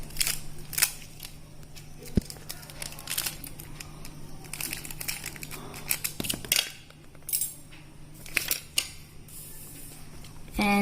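Scissors snip sellotape during a school practical on the parts of a flower, with repeated sharp cuts, crinkling tape and small handling noises close by, and no voices.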